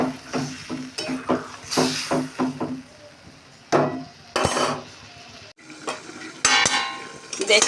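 Onions stirred with fried tomato and brinjal in a pan, a string of close scraping and clinking utensil strokes over a low sizzle, coming in short bursts with brief pauses between them.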